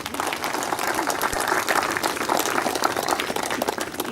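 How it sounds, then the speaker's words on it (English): Audience applause at a spiritual talk, dense continuous clapping from a crowd heard as an even, close wash of claps lasting a few seconds. "Give a big clap for jalebi and rasgulla."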